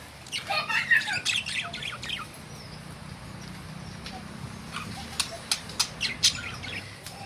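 Birds squawk and call in short sharp bursts, a cluster early on, then quieter, scattered calls over a low background hum.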